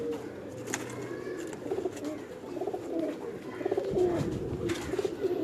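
Pigeons kept in a Lahore loft coo in soft, repeated low bursts close by, with light rustling and faint background murmur.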